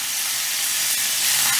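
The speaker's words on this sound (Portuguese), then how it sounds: "Um pouquinho de óleo de gergelim torrado. Adicionar toda a carne. E fritar até dourar." Meat frying in toasted sesame oil for a curry ramen, giving a steady, close sizzling hiss that builds slightly toward the end, with no talking.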